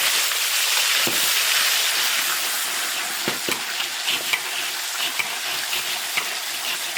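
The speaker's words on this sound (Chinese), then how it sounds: "调料炒香，炒出红油" Seasonings of ginger, garlic, pickled chilies, Sichuan peppercorns and chili sauce stir-fried in a large iron wok, a loud steady sizzle and hiss with scattered scraping stirs and pops throughout.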